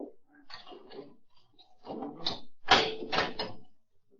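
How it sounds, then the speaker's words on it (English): A cell-block door at a police station is opened in an old-time radio detective drama, giving a series of separate clunks and rattles that build to a louder burst near the end. "I'll get the door."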